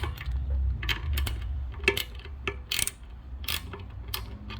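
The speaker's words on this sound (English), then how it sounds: "The size is a 1/4 inch ratchet, wrench, whatever you got. Ratchet just works faster. Then you just unscrew." Quarter-inch ratchet working loose the motor screws on a Fantom Fury vacuum, a run of quick, close metallic clicks and ticks in irregular bursts over a low hum.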